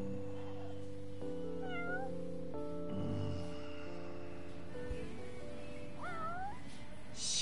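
A stray cat in the video game Yakuza 6 meows twice, short rising-falling cries a few seconds apart, over steady background music.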